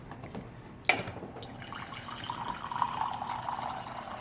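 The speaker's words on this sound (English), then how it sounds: "I'm going to use my fridge water, only because it's filtered. So let me fill up a glass." Filtered water pours from a refrigerator dispenser into a glass, starting with a sharp click and then running as a steady, close trickle that rises slightly as the glass fills.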